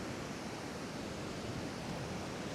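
Waves break on a cold Scottish shoreline along the Cape Wrath Trail as a steady, broad roar of surf and wash, constant and fairly loud, with no voices.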